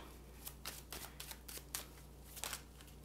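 Tarot cards are shuffled in quick, irregular papery riffles and slaps, faint and close, with a low steady hum beneath and no talk.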